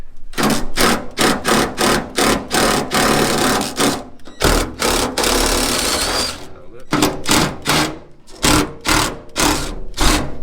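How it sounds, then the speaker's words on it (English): An impact driver removes bolts from a 1934 Plymouth, with a close series of loud rattling bursts separated by short pauses and one longer continuous run in the middle. "we'll use the impact driver to get most of these off"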